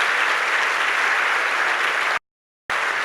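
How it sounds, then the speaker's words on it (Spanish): A church congregation claps loudly for the Lord, a dense steady wash of applause that cuts out abruptly for a moment before resuming. "Vamos a darle ese aplauso fuerte al Señor"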